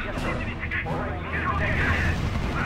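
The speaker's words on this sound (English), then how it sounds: "Our units are under fire." Gunfire and artillery from the R.U.S.E. strategy game keep up a dense, continuous rumble of shots and blasts, loud and close, with a radio-style voice speaking over the battle.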